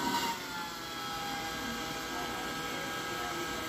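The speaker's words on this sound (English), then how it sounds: "Put it back on and you can hear there's a drag on the motor." Fan motor of an 853D hot air rework station, dragging against its cover, a steady airy whir and hum, close and even, with a brief louder burst at the start.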